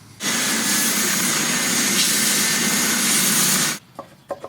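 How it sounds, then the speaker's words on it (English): Plywood guitar-neck template sanded to final shape with a power sander, a loud steady broadband whir lasting about three and a half seconds before cutting off, followed by a few faint knocks. "So I'll just sand it to its final shape now."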